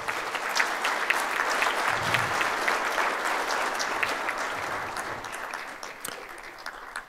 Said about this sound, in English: Let us formally acknowledge the installation of President and Vice Chancellor Suleiman Shahabuddin with a thunderous round of applause.